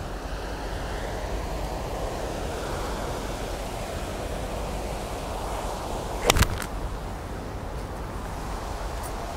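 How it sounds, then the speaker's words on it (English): Strong wind ripping across an outdoor golf practice area gives a steady, loud broadband rush with microphone buffeting throughout, and a brief sharp knock partway through. "even with that wind, and it's ripping across here"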